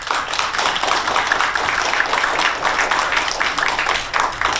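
A hall audience breaks into sustained, dense applause to open the first-anniversary ceremony of the Kim Young-sam Presidential Memorial Foundation, many hands clapping at once, loud and steady throughout.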